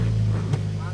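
Car with a replaced aftermarket exhaust idling just after being started, giving a steady low engine hum with one short knock midway through a one-second stretch.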